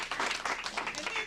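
Short burst of audience applause during a husband-and-wife Kangen Water demonstration, a dense, even wash of many clapping hands at moderate loudness with no pauses.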